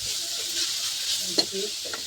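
Grated potato being mixed in a frying pan with ginger, a soft continuous sizzle with a few clinking scrapes of the spoon toward the end.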